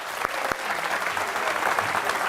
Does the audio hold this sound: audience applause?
yes